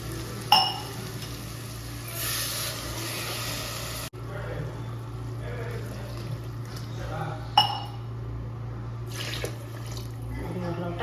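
Water poured into a pot on the stove for vegetable pulao, a steady pouring flow with a couple of metallic clinks against the vessel, close, under a constant low hum, with someone talking over it.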